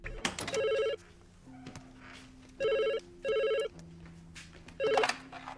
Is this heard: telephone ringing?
yes